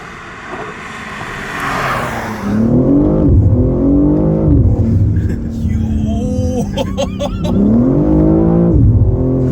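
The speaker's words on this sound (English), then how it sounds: "It's it's an inline 6 twin turbo. I believe it's 503 horsepower in here" A 2023 BMW M3 Competition's twin-turbo inline-six pulls hard through the gears, rising in pitch, dropping at each shift and climbing again, loud and close with a brief voice near the start.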